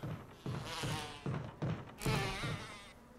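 Bees and wasps buzzing in the Resident Evil HD game, heard as a series of rising and falling buzzing swells that come and go in pulses, fairly faint, with soft thuds underneath.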